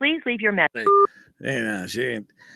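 Telephone keypad tones as a number is dialed on a morning radio show: a short pair of steady beeps sits between bursts of close conversational talk, with more speech following.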